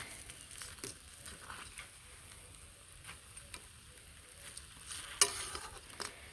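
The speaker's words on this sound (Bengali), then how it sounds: "বড়াগুলো মুসমুসে করে ভাজ বানাইছি এখানে একটু চুলাই রেখে দিব মুসমুসে থাকার নিয়ে" Bora fritters frying in oil in a pan on the stove, a soft, steady sizzle with faint crackles and ticks, one sharper pop near the end, no talking over it.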